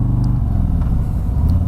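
A Harley-Davidson Street Glide Special motorcycle rumbles along on a ride, its engine a steady low throb up close.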